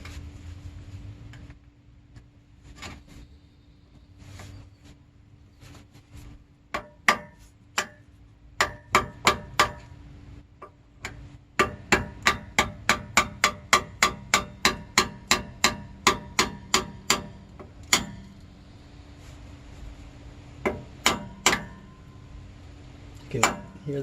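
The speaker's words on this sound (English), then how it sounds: "I'm not going to hammer it too hard in that one area." Sharp metallic hammer strikes on a Ford F-150 differential cover ring out, sparse at first, then a fast steady run of evenly spaced blows, pausing and resuming near the end.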